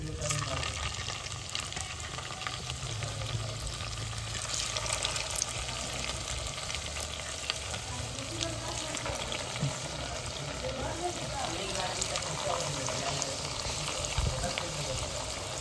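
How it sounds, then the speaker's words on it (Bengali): Phul pakon pitha deep-frying in hot oil makes a steady, dense sizzle that runs unbroken throughout, close and moderately loud. "ফুল পাকন পিঠাগুলো এখন আমি ভেজে নিচ্ছি, আর খুব সাবধানে তুলতে হবে একটু, তেলটাও গরম হয়ে গেছে।"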